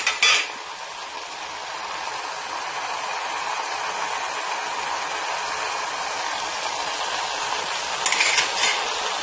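Tomatoes soften in a pan during egg chapati preparation. A steady, even frying sizzle fills the clip, close and moderately loud, with a brief clatter at the start and again near the end and no talking.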